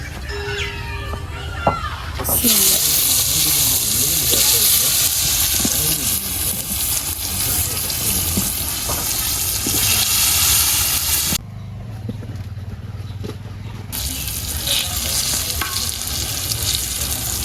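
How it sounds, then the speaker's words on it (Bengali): Eggplant slices frying in hot oil in a village kitchen, a loud, dense, continuous sizzle close by that briefly drops and resumes, with faint background voices early on. "বেগুন ভাজা হয়ে গেছে"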